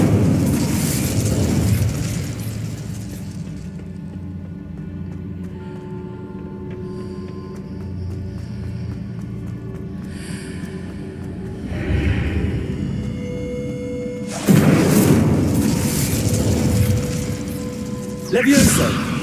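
Casting spells in the Hogwarts Legacy video game sets off bursts and booms, with a loud blast at the start and another near the end. A voice calls out between the explosions, and crackling and whooshing effects fill the gaps.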